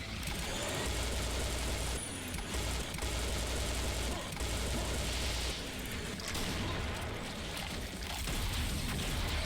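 Gunfire in the game Serious Sam Fusion rattles on continuously and loudly under a dense, noisy game soundscape with a low rumble throughout.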